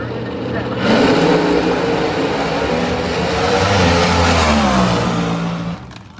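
A Top Fuel clutch dragster engine revs hard at a March Meet qualifying session, a loud, dense roar that swells in and holds before cutting off, with a voice talking underneath.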